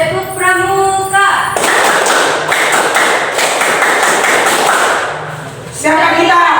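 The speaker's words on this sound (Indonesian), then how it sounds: "Tepuk pramuka" Students at SMA Negeri 3 perform the tepuk pramuka scout clapping chant, a dense burst of rhythmic group claps and taps lasting about four seconds, with a voice talking before and after.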